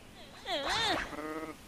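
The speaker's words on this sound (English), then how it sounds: "All right, stop moaning, sheep. I'm not attacking you." A sheep in the video game Dragon Quest Builders 2 lets out a single wavering bleat, fairly close and clear, with a short second bleat trailing after it.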